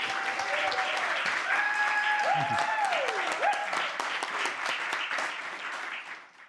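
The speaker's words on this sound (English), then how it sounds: "Everybody, a massive round of applause for Luke." An audience applauds a new song steadily, a dense wash of clapping with a few whoops, sustained before fading out at the end.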